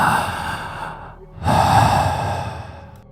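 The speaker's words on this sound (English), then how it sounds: "Now this is very distinct, human sounding breathing," Slow, deliberate, human-sounding breathing, two long drawn breaths with a short gap between them, close and fairly loud over a steady background hum.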